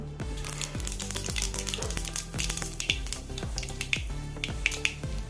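Mustard seeds spluttering and popping in a tablespoon of hot coconut oil in a pan on a gas stove, a dense run of sharp crackles and snaps over a steady low frying hum.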